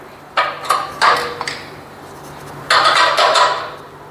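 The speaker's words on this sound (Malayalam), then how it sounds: "ശേഷം നമുക്ക് സ്പാനർ ഉപയോഗിച്ച് ടൈറ്റ് ചെയ്യാം" A spanner tightens a bolt on a power sewing machine, giving a few close metallic clinks and ratcheting clicks in short bursts, then a longer scraping rattle after a pause.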